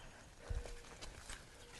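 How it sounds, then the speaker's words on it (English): Hooves of an Arabian horse clip-clopping as it is led at a walk toward a hitching post, a few soft, close hoof strikes in an uneven rhythm over light ambient noise. "now we're going to walk our horse back to the hitching post over there to get ready to saddle"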